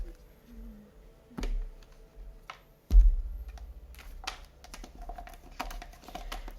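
Tarot cards being cut and shuffled by hand in a quiet room, giving a few sharp card snaps and soft papery clicks spaced irregularly, close and fairly faint.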